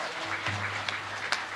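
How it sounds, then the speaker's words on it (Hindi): Steady, soft clapping from an audience at a Hindu religious discourse gathering, a continuous wash of applause heard from a moderate distance without any talk over it. "एक बार तालियां बजाओ।"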